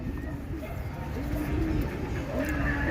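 A racing pigeon coos in soft, repeated rounded calls under a steady outdoor hum of wind and background noise.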